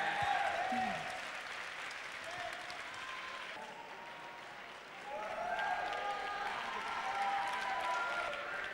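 A runway show crowd applauds steadily at a ball-style competition, with cheering voices and a musical tone rising over the sustained clapping.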